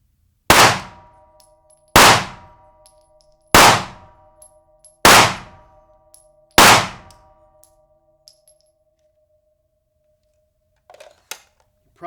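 Five loud, sharp gunshots fired one after another at roughly 1.5-second intervals, each with a short ringing decay, followed by a few faint clicks and handling noises.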